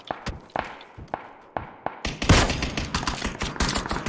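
Gunfire in PUBG, several single sharp shots spaced apart, then a dense rapid volley with heavy thuds, loud and close, no talking.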